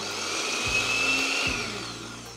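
A kitchen mixer grinder dry-grinds peanuts and coconut with a loud, continuous whirring roar that shifts slightly in pitch as the contents tumble.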